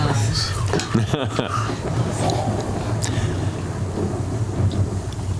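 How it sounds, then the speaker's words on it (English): Heavy rain beats steadily against glass doors in a thunderstorm at night, a dense, unbroken wash with low rumbles of thunder running beneath it throughout. "the sound of the heavy rain hitting the glass doors on the outside of your captain's quarters"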